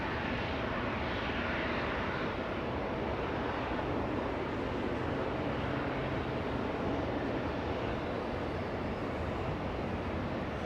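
A jet airliner takes off from runway 24 left at Los Angeles International Airport, its engines a loud, continuous broadband roar that holds steady throughout, heard from a distance with no voices.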